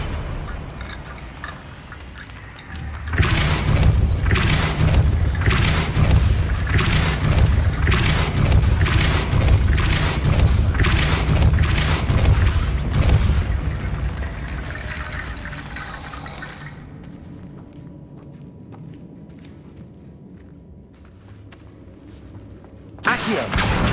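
A Depulso force spell is cast in Hogwarts Legacy: a loud, sustained rushing surge with rapid pulsing bursts for about fourteen seconds, which slowly fades and ends with a sharp hit.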